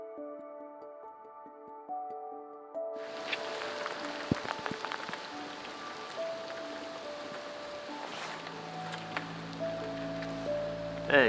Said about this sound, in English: Rain's definitely set in for the day.